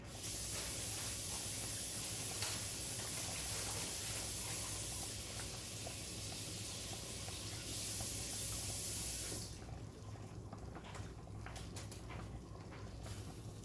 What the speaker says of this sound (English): I really want to wash this, so let me rinse it off a little bit